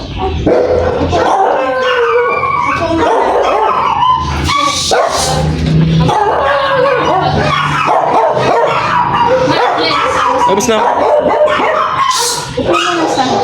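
Several dogs bark, yip and howl almost nonstop at a dental clinic, loud and close, with a person speaking briefly among them.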